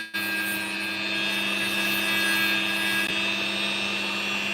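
Power tool cutting away the sandy matrix from an opal, a steady whining motor drone with strong tonal lines that runs continuously and close, without pause, no talking over it.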